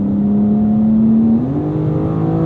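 BMW M2 CS inline six-cylinder engine accelerating from inside the car, a loud steady droning hum that rises smoothly in pitch, then drops briefly at a shift before pulling again.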